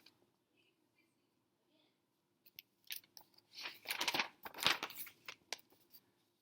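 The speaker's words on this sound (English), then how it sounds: "they nibble, they munch with a chew-chomped crunch" Munching and crunching sound effect for animals eating during a children's story reading: faint at first, then a cluster of close, crisp chewing crunches in quick bursts that fade into scattered bites.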